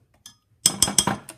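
A metal tablespoon clinks against a dish in a quick series of about five taps while corn starch is spooned in for homemade watercolour paint, close and clear.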